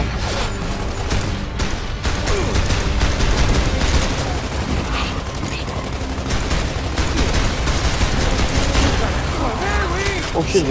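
Sustained gunfire from the Gears of War 2 video game, rapid bursts and machine-gun fire crackling loudly for the whole stretch with crashes mixed in, with players talking faintly underneath.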